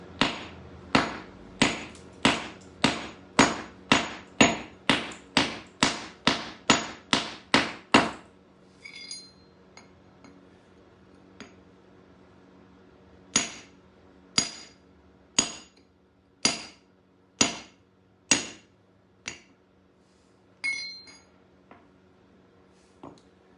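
Hammer blows cracking open a geode, about fourteen sharp strikes in quick steady succession, then a pause and six more spaced, loud impacts close to the listener.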